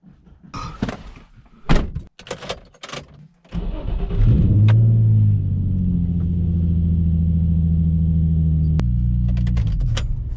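A Nissan 350Z with a new coil and a 75mm big-bore throttle body cranks and fires after a few clunks and knocks, then settles into a steady, close, smooth idle with no misfires, holding a low even drone.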